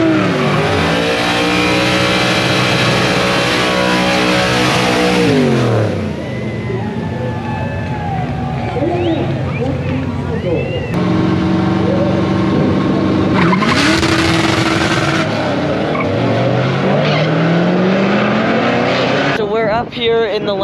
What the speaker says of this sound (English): They're fixing to run their beautiful 55 Chevy station wagon down the track.